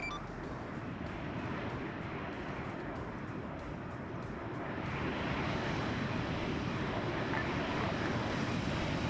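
A heavy aircraft named Falcon takes off from a runway too short for it in a video game, a steady broadband engine roar that swells noticeably louder about halfway through and stays strong.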